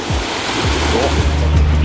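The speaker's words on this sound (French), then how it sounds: "Il y a des vagues." Ocean surf rolls onto a small beach on a Thai island, a steady broadband wash of waves with low rumbling swells and wind buffeting the microphone throughout.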